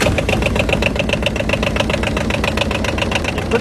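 The twin-cylinder 686cc Lombardini diesel engine of a Diesel 700 quad idles with a steady, loud, rapid knocking chug, close by and with no talk over it.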